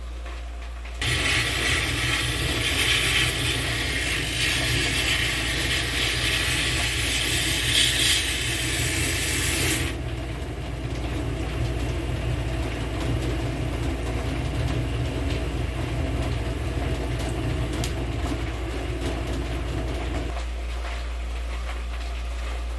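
A lapidary polishing wheel working a Petoskey stone at 600 grit, heard as a steady, loud mechanical whir and rumble with a grinding hiss in the first half, continuing to run without talk.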